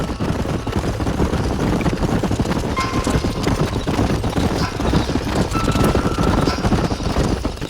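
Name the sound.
horses walking in Red Dead Redemption video game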